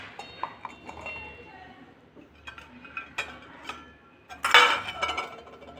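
A knife finely chops cleaned colocasia (alu) leaves with scattered close taps and clicks, uneven in rhythm, while a voice talks softly underneath.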